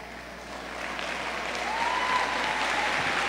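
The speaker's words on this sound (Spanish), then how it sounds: "¡Un aplauso!" Steady applause from a crowd at a diocesan catechesis congress, building slightly in loudness and continuing without pause throughout.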